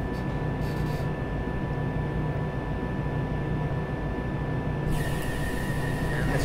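A Class 203D electric train in Train Simulator 2019 on the Harrow & Wealdstone to Elephant & Castle line hums and rumbles steadily at close range, with a constant whine and a brief hiss of noise near the end.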